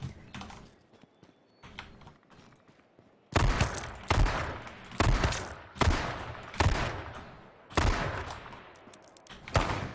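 Bursts of gunfire from the online battle-royale shooter H1Z1: a quiet stretch of sparse clicks gives way to five or six loud, sharp volleys spaced about a second apart, close and punchy.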